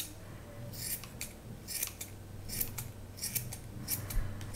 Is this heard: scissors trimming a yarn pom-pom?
yes